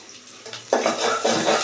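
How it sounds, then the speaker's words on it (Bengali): Onions frying in a pan are stirred with a utensil, giving a few clattering scrapes against the metal over a soft sizzle, close and fairly loud. "তো এই যেখানে আমাদের পেঁয়াজটা একদম ভাজা ভাজা হয়ে আসতেছে"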